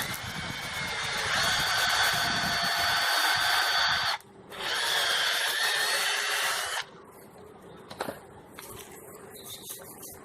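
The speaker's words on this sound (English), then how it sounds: "So I drill in 1 inch" A power drill bores holes into a log for mushroom plugs with a loud, close, high whine that runs for about four seconds, pauses briefly, then drills again for a couple more seconds, followed by quieter handling knocks.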